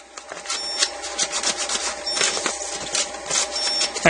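A roll of paper is pushed through the slot of a Mitsubishi CP-K60DW photo printer, giving a run of close, dry scraping and rubbing strokes with a faint steady electrical hum behind.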